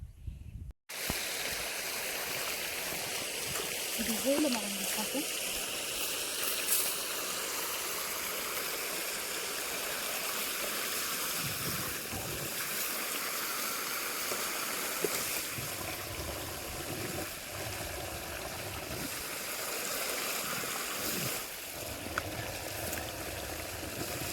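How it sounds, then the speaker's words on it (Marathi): Irrigation water rushes steadily into a wheat field in a continuous, loud flow, like a stream pouring along a channel, unbroken for the whole stretch with occasional faint background noises. "गव्हाला पाणी तर चालू केलंय"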